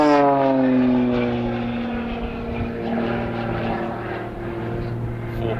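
An aerobatic propeller airplane flying a freestyle routine in a high-G, high-speed low turn. The engine drone is loud and steady, its pitch sliding slowly downward as the plane passes and pulls round, with no voices.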